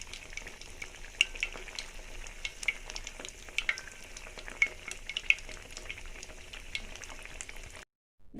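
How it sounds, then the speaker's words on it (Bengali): Foli fish kofta fries slowly in a pan, giving a steady, close sizzle dotted with small crackling pops, heard alone until it cuts off abruptly at the end. "এটা এইভাবে আস্তে আস্তে ভেজে নিলে"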